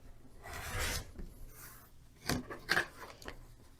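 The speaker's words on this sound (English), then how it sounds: "So I'm going to go ahead and trim 1/4 inch away from that line." Scissors or a rotary cutter trim quilting fabric a quarter inch from a stitched line, heard as soft, close rasping cuts with a few sharper snips, quiet and alone.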